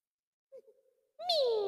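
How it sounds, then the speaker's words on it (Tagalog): A British Shorthair cat gives a soft, brief chirp followed by one clear, rising-then-falling meow, close and fairly quiet. "Meow."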